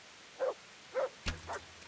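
A dog in the medieval video game Kingdom Come: Deliverance lets out four short, evenly spaced barks, close and clear with no voices over them.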